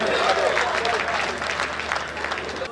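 Hearty applause from an audience welcoming poet Shambhu Shikhar at a poetry gathering, a dense crowd clapping at steady volume with voices mixed in.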